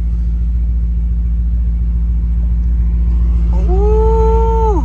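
A Dodge Redeye idles with a deep pulsing rumble, then the engine revs upward near the end, pitch rising and holding in a loud nearby roar.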